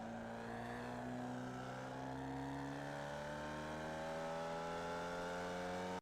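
Formula Vee race car in iRacing at Tsukuba, its engine accelerating hard with rising harmonic pitch through a gear, loud and close, steady under throttle before cutting off at the end.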